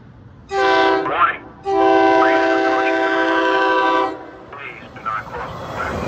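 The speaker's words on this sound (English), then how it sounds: "a train is approaching the crossing" A train horn blasts near a railroad crossing in Chalfont, Pennsylvania, one short burst and then a long sustained blare, with a recorded warning voice and crossing sounds around it.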